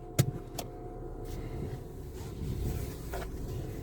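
A used car with 75,000 miles runs at idle with a slightly grumbly alternator, giving a low, steady rumble and hum close by, with one sharp click near the start.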